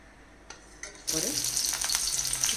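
Fish pieces dropped into hot oil for a vegetarian fish curry, giving a sudden loud, steady sizzle and crackle after a couple of faint clicks, with a short bubbling burst at the start of the frying.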